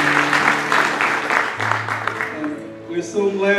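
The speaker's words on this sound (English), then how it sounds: "Let's give our praise team a hand clap of praise." A church congregation claps for the praise team during a service, a brisk burst of applause that fades as music and a voice continue.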